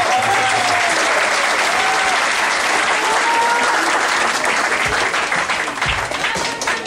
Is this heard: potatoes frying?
no